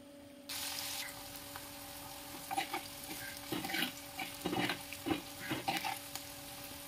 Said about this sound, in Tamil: பெரிய வெங்காயம், கருவேப்பிலை, இதெல்லாமே கலர் சேஞ்ச் ஆகிற வரைக்கும் வறுத்துக்கலாம்